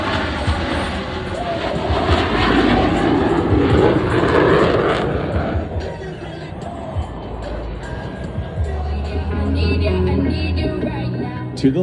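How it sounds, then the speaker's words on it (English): Jet aircraft of a four-plane diamond formation perform a simultaneous aileron roll at the Spirit of St. Louis airshow, a loud, continuous roar that surges and fades as they pass, with a public-address announcer talking over it. "All four pilots will simultaneously roll their aircraft 360 degrees as they perform the Diamond Aileron Roll."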